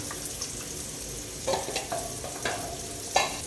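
A spoon stirs coconut milk into a pot of jackfruit seed and snake gourd olan, giving soft, quiet scraping and liquid swishes with a few slightly louder stirs over a low background hiss.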